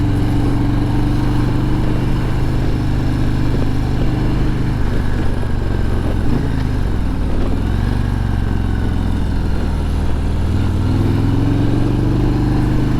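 A 2023 Harley-Davidson Road Glide Limited, a big heavyweight touring motorcycle, out on a ride. Its V-twin engine gives a loud, continuous low rumble with slight shifts in pitch as the speed changes, and no one speaks.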